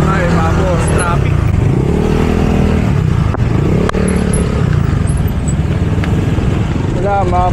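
Dense road traffic in Metro Manila, heard from a bicycle: a continuous close wash of motorcycle and car engines with occasional revving and clatter.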